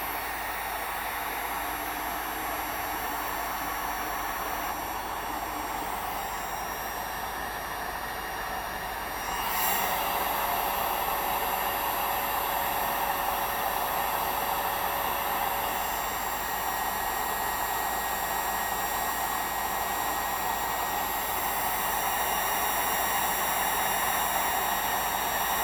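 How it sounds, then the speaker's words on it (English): A Harbor Freight heat gun blows hot air during a Triumph Bobber fender eliminator install: a steady, close whooshing hiss that grows noticeably louder partway through and then holds constant, with no talking. "get our heat gun, Harbor Freight Special, and we just apply some heat"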